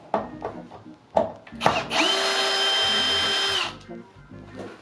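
Power drill backing out rear retaining screws on a Zeolite appliance during repair, with a few short clicks and taps before a single sustained whirring burst lasting about two seconds, then quieter handling noises.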